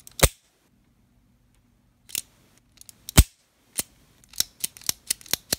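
Blued Taurus Model 82 .38 Special six-shot revolver with a 3-inch barrel being cycled, giving sharp metallic clicks of the hammer and cylinder, a few isolated snaps followed by a quicker run of crisp clicks, close and alone.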